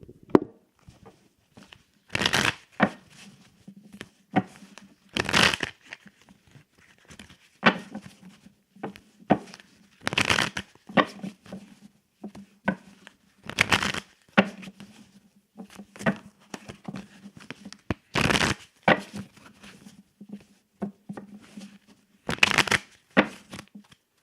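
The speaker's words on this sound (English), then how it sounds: "I'm going to shuffle my cards" A deck of cards being shuffled by hand up close, with sharp riffling bursts repeating every few seconds in a regular rhythm and quieter handling noises between them, no talk.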